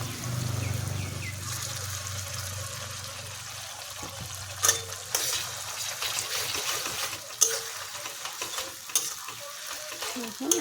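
Ground spice paste sizzles and fries in a pan for a Bengali meat curry while it is stirred, with a steady frying hiss and scattered sharp scrapes and clinks of the spoon against the pot.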